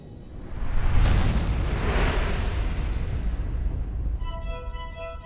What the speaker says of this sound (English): what we today call a Big Bang